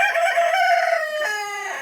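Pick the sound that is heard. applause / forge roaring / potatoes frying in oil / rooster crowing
rooster crowing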